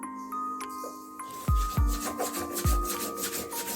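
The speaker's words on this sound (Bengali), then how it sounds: "এবার মা পোস্তটা বেটে নেবে।" Poppy seeds and a couple of chilies are ground on a flat grinding stone, giving close rubbing scrapes punctuated by a few dull low thuds as the stone moves.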